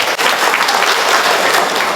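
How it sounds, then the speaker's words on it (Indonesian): Audience applause fills a hall at the opening of a domestic-products showcase and business-matching event in Indonesia: steady, dense clapping from a large crowd, loud and close throughout, with no voices over it. "Tepuk tangan dulu untuk kita semua."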